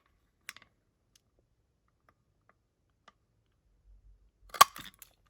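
A paper punch snaps through a die-cut card label: a few faint clicks, then one loud, sharp close-up punch near the end.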